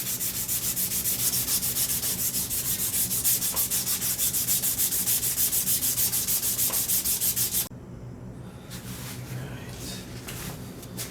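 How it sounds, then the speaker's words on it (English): Steady rhythmic rasping of 320-grit sandpaper worked by hand over a Damascus knife handle, close and continuous for most of the stretch, then dropping to quieter, sparser rubbing near the end. "it's literally hand sanding. Right now I'm up to 320 grit."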